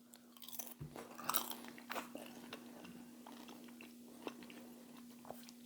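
Crisp bites and crunchy chewing of homemade baked pepper jack cheese crackers, a string of close, sharp crunches that thin into softer chews, with a faint steady hum beneath.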